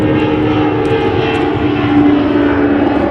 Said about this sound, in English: Got an airplane taking off over there.